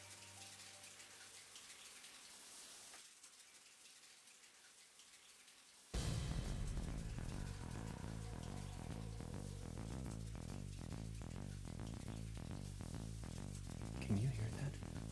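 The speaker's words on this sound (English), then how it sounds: "Can you hear that? Is it rain? No, it's the shower." A shower runs in a video game bathroom, a faint soft hiss at first that cuts out, then a louder steady spray returns under layered game music and tones.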